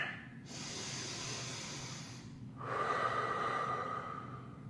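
Two long, slow breaths in a yoga sun salutation, one airy inhale followed by a fuller, slightly louder hissing exhale, close and steady with no talk.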